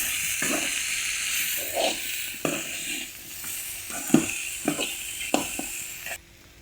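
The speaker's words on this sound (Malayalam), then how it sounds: "നാരങ്ങയും കൂടെ ചേർത്ത് നല്ലതുപോലെ ഒന്ന് ഇളക്കി കൊടുക്കുക." Lemon curry with lemon just added, stirred in a pan: a continuous sizzle and hiss with repeated spoon scrapes and knocks, ending abruptly in quiet.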